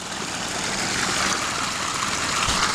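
A 2,700 gallon-per-hour County Line water pump runs steadily near a waterfall, giving a constant broadband whoosh and hum of motor and moving water with no break and no talk.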